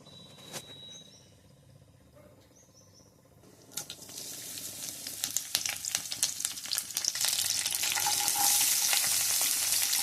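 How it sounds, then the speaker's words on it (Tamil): Cinnamon, cloves and cardamom fry in hot oil in a kadai, starting with a quiet, faint sizzle and building to a loud, steady crackling frying hiss with scattered pops, heard alone with no talk. "இப்போ நான் அந்த கடாயிலே எண்ணெய் வச்சுட்டேன். இப்போ பட்டை, லவங்கம், ஏலக்காய் போட்டுக்கிறேன்."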